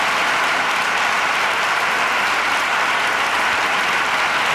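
Audience applause fills a lecture hall on childhood and adolescence as a steady, dense wash of many hands clapping, loud and continuous with no voices rising above it.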